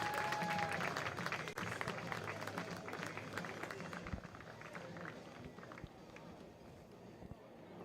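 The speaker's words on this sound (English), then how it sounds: "let's give a big round of applause for our 7th grade and 8th grade middle school baseball teams" Outdoor crowd applause at a middle school baseball game gives steady scattered clapping that slowly fades, heard from a distance.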